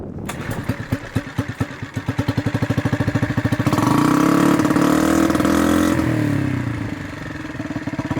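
Small dinghy outboard motor, freshly restarted after its carburetor was cleaned, putters in a rapid steady rhythm, then revs up into a louder sustained drone before easing back to a quicker idle, close by with no talk.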